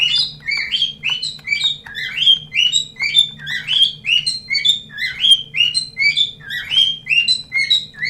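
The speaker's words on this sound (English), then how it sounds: "goddamn bird." A bird chirps in rapid repeated bursts just outside a home office, steady bright tweets close by over a low hum, with no talk.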